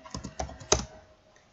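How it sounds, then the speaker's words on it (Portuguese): Close, quick keystrokes on a computer keyboard while typing Python code, a short run of about five or six taps with one louder strike, then quiet. "Saberem digitar isto assim."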